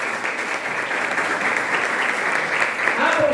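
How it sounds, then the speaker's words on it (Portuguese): A church congregation claps in a steady, dense patter of applause lasting a few seconds, fairly close and even in loudness. "Então vamos aplaudir Jesus"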